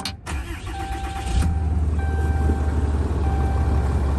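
A 2012 Dodge Ram 2500 truck engine cranks and catches, with a brief starter whir before a loud low rumble settles into a steady idle close by, and nobody talks.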